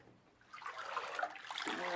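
Bath water with a dissolving bath bomb gets stirred by hand, a soft swishing and trickling that swells after a quiet start and continues steadily, close and low in level.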